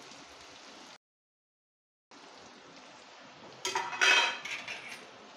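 A spoon scrapes and clinks against a kadai while bitter gourd curry is stirred, giving a soft sizzle broken by a short gap and then a louder burst of metal scraping.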